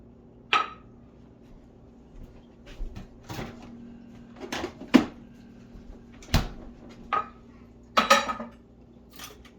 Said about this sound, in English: Now I have a bunch of dishes to do.